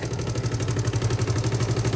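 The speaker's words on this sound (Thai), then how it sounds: "นี่ สำหรับเสียงเครื่องยนต์นะครับ" A Suzuki Hayate 125 motorcycle with a replacement Dash carburettor idling steadily nearby, its low chugging pulse repeating in an even, rapid rhythm with no voices.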